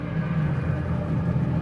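Outboard engine on a 2017 Robalo 22 center-console boat running in reverse, a steady low rumbling drone close by with no voices.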